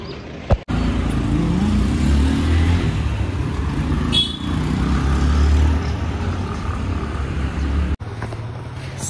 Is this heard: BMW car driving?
yes